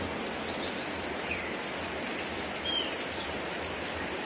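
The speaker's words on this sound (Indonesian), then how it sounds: "Ini hujannya keras ya." Heavy rain falls steadily as a soft, even hiss, fairly quiet and continuous, with a faint bird call or two barely audible behind it.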